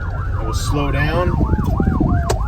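A police car siren wails loud and close, its sweeping tone switching into a faster yelp pattern, with road and engine rumble underneath and an officer speaking briefly over it.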